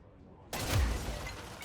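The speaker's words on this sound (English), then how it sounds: "look at the shatter pattern of this glass." Glass shattering in the video game Control, one sudden loud crash after a quiet lead-in, with a low impact thump and a bright spray of breaking shards that fades over about a second.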